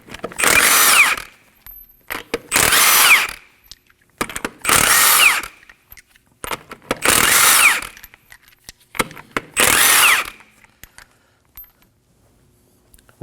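A power tool spins off the lug nuts of a Kia Optima front wheel with a 21mm socket, five loud close whirring bursts about a second long, separated by short pauses and small metallic clinks.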